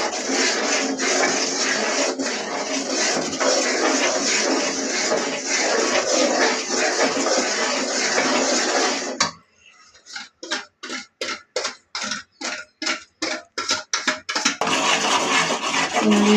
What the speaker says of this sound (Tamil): நல்லா மாவை கலக்கிக்கிட்டே இருக்கணும், கை விடாமல்